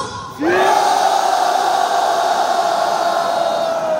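Army training-center recruits roar a long, loud shout in unison, one sustained massed cry that rises sharply and holds steady for several seconds.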